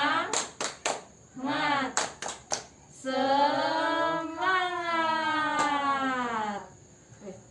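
A group at an Indonesian training session claps a quick rhythmic cheer in short bursts, followed by several seconds of sustained group chanting, all close and fairly loud.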